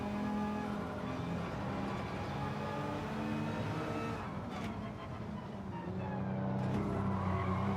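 Race car in Gran Turismo 7 roaring at steady high revs, tires squealing and skidding through corners, engine note rising and falling continuously and close, with no voices.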